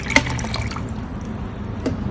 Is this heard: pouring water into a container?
yes